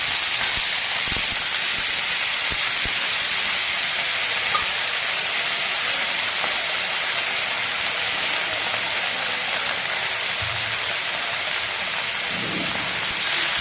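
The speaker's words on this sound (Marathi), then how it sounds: "आणि गवार ही चांगली फ्राय करून घेते।" Cluster beans (guar) fry in a hot pan with semolina, giving a loud, dense, unbroken sizzling hiss throughout, with a few faint stirring knocks beneath.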